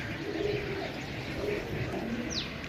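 Several pigeons held for sale in Jhelum, Pakistan coo softly and steadily in the background, a low murmuring drone with a brief chirp near the end.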